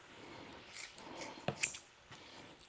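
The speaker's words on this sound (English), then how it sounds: "Let's see how much more use we can get out of these scissors." Kitchen scissors trim fat from a raw beef shank being prepared for osso buco, giving a few quiet, close snips clustered together against a soft background.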